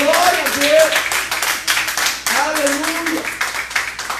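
Church congregation clapping in rhythmic, repeated bursts during a live service, with a voice calling out over the claps.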